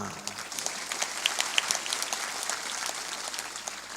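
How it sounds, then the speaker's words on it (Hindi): An audience at a spiritual discourse clapping hands together, a dense, steady burst of applause close and fairly loud, with a voice faintly underneath. "ये तो यहाँ ताली बजाने की हम ट्रेनिंग देते हैं"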